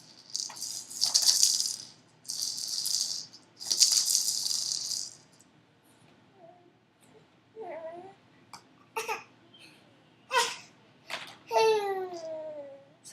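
A baby shakes a rattle in two loud bursts, then coos and babbles in short, high vocal sounds at close range, with quiet pauses between.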